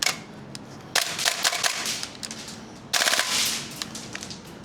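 An airsoft SCAR MWS rifle fitted with a steel bolt fires two long full-auto bursts, a near, loud, rapid mechanical rattle with a quieter stretch of clatter between them.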